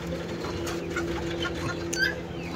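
A chicken clucks softly in short, scattered calls over a steady low hum, heard close by with no talking.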